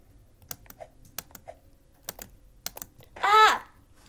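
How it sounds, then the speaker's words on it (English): Repeated sharp clicks of a computer keyboard's space bar, tapped singly at an irregular rhythm and close up, during a game of Cool Parkour 750 Staged Obby, ending in a short vocal exclamation. "You heard me clicking my space, right?"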